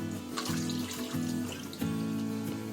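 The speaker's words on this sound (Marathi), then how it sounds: "अजून त्याच्यात पाणी ओतायचं आहे" Hot water pours steadily into a kadhai of misal masala, a continuous splashing gush with slight changes in pitch as the flow shifts.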